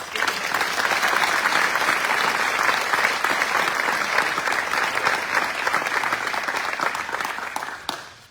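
An audience applauds the introduction of a new Secretary of Commerce at an economic announcement event in Pulaski, Virginia, a loud, sustained wall of clapping that holds for several seconds before tapering off at the end.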